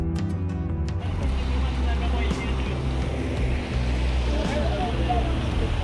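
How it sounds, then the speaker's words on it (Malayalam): Water rushes steadily in an outdoor setting, a broad continuous wash with a wave-like surge that holds at a constant loud level throughout. "ഈ വെള്ളത്തിന്റെ സൗണ്ട് സത്യം പറഞ്ഞാൽ നല്ലൊരു പ്ലസന്റ് ഫീൽ തന്നു കേട്ടോ ഞങ്ങൾക്ക്."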